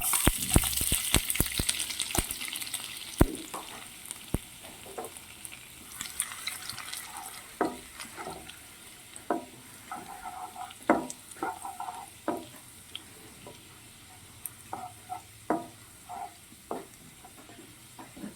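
Finely chopped garlic and cumin fry in oil in a pan, giving a soft sizzle under repeated scraping and stirring strokes. Close-up, with no voices, and a quieter, sparser stretch toward the end.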